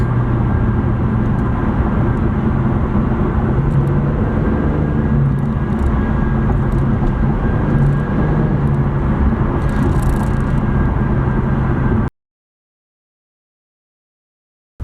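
Infiniti Q60 Red Sport engine heard from inside the cabin in Sport Plus mode, a loud steady rumbling drone with slight surges, cutting off abruptly near the end.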